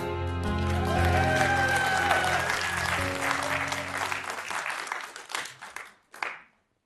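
Theater audience applause during a one-man stage show, clapping swelling over a fading sustained musical chord, then thinning into scattered claps and trailing off to silence.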